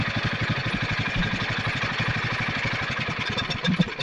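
A Generac 7000 portable generator engine runs at a steady idle after repair, its even, rapid thumping pulses close and continuous with no talk over it.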